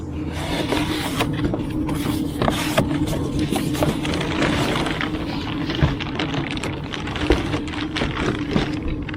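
Cardboard parts box from Carefree of Colorado being opened, holding a slide topper fabric in a plastic bag and a hardware pack: close, continuous scraping, rubbing and rustling with scattered sharp taps and crinkles throughout.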